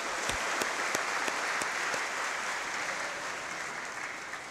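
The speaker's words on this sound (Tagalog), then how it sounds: "Bigyan natin ulit sa ating mahal na Panginoon isa pang malakas na palakpak" Congregation at a Simbang Gabi church mass clapping loudly for the Lord, a dense, sustained burst of applause with a few sharp individual claps standing out near the start, no voices.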